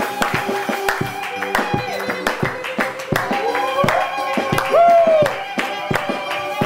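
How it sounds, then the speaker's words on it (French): A church congregation claps loudly after a prayer, rhythmic hand clapping mixed with music and tonal voices, lively and close, continuing throughout. "Nous applaudissons très fort."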